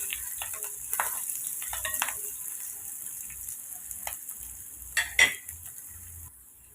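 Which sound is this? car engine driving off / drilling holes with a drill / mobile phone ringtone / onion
onion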